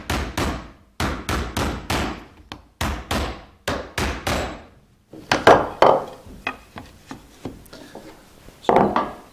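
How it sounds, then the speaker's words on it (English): A hammer drives wooden stops down beside a Spanish guitar fretboard in sharp, evenly spaced knocks, first in a steady run, then in looser, uneven taps, close and loud. "I'm going to hammer these down."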